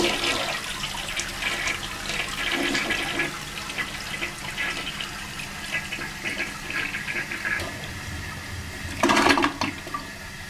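An old Kohler toilet with a chipped tank cover, in a Days Inn hotel room in Princeton, flushes with a steady rushing gush of water that continues as the tank refills, ending in a brief louder surge.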